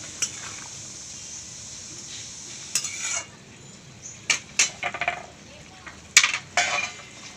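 Fried rohu fish roe is tipped into bubbling curry in a pan: a faint simmering hiss runs beneath sharp, scattered spoon clinks and scrapes against the pan, growing more frequent toward the end.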